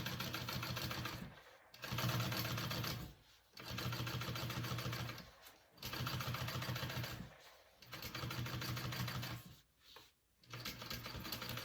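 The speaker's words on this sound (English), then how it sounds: "you want to top stitch it" Sewing machine topstitching a seam on a crossbody bag, running in rapid, even stitching bursts of about two seconds each, separated by short pauses, close and steady.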